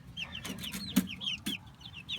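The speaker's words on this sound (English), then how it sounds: "But we wanted some pretty chickens too, and I believe we got about 4 roosters in here." Leghorn and barred rock chickens and roosters cluck softly at close range, with overlapping short clucks and a few louder chirps and thumps in a barnyard setting.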